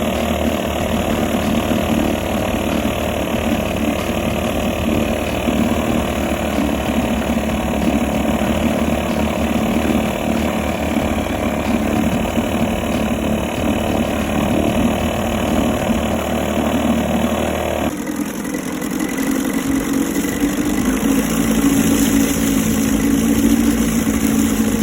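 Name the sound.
1969 Evinrude Lightwin 4hp outboard motor running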